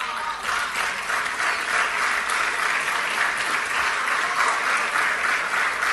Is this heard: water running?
no